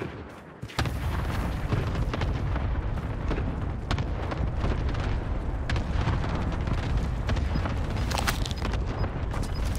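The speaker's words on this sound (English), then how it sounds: "Cluster strike away." Cluster airstrike in Call of Duty: Modern Warfare, a dense, continuous barrage of rapid overlapping explosions and cracks rolling on loudly after a short quiet start, with no talk over it.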